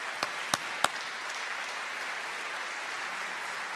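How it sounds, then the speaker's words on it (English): Applause from a school district assembly audience honoring a retiring TCC staff member, a steady broadband wash of many hands clapping at moderate distance, with a few sharper nearby claps near the start, continuing without speech. "Let's give him a round of applause."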